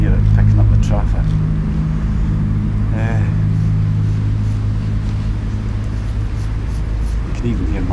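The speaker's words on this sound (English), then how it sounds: "It's early here, it's picking up the traffic." Early-morning road traffic picked up outdoors by a microphone, a steady low rumble of passing vehicles under someone talking, continuous and moderately loud throughout.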